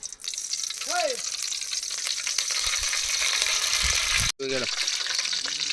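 Mustard seeds and cumin sizzling and popping in hot oil for a South Indian chitranna tempering, a loud steady fry close by with a stirring scrape and a brief voice in the background.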